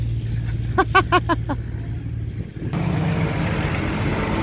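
A car arrives: a quick run of short tonal beeps comes first over a low rumble, then a loud, close wash of engine and road noise swells in and holds.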